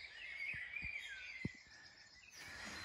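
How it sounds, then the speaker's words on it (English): Birds chirp and sing in a forest at a campsite, a steady high chorus of overlapping calls carrying on throughout, with a few soft low knocks or thumps nearby. "Forest is alive with birds"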